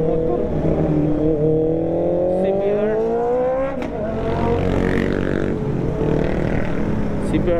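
A Honda CBR650 sports motorcycle engine revs up in rising harmonic sweeps, loud and close, with a second motorbike engine audible beneath and a steady road drone throughout.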